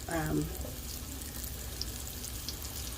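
Beef chunks for stew are browning in a hot pan with a soft, continuous sizzle and faint crackles, preceded by a brief voice at the start, then the frying carries on alone at moderate volume.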